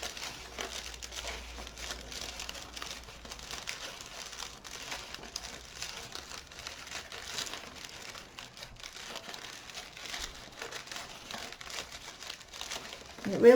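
Crepe paper crinkles and rustles steadily as it is gathered and folded into a rose, a soft continuous papery texture close by with no voices.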